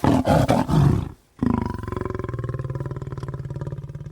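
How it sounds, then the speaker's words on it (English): Deep, close roars from a lion pride: a few throaty grunts, a brief pause, then a long rumbling roar that breaks into rhythmic grunting pulses. "a dozen cubs will come back to that place and just lay down right in front of your microphones and start vocalizing"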